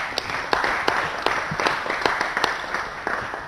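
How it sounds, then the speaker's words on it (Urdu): A quiz show studio audience applauds for contestants, steady close clapping from many hands with a few sharp individual claps standing out, no talking over it. "ان دونوں کے لیے بہت زیادہ تالیاں ہونی چاہیے"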